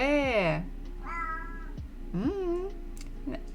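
A domestic cat meows several times up close, drawn-out tonal calls of rising and falling pitch, with a person's voice heard alongside.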